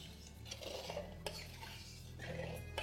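Pots and utensils clink and scrape as sugar syrup for motichur laddu is stirred in a pan over a high flame, a steady run of close metallic stirring sounds with a low burner hum beneath.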